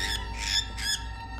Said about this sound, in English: What is she doing to the bird?